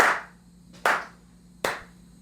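Three sharp, close hand claps spaced under a second apart in a quiet indoor room, each ringing briefly before fading, with no talking.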